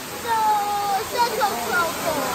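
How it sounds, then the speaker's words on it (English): Hawaiian waterfall roaring steadily from inside a small cave behind the falling fresh water, a dense continuous rush with voices and shouts over it. "It's a Hawaiian waterfall."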